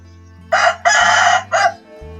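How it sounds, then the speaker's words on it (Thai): A rooster crows loudly nearby in one long call broken into three bursts, with a low steady hum underneath. "ฟังเสียงไก่ครับไก่ขันเต็มอยู่"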